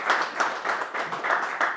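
Audience applause at a fly-fishing seminar on Driftless trout, a dense, steady wash of many hands clapping with a gently pulsing swell, fairly close and filling the room, with no voices over it.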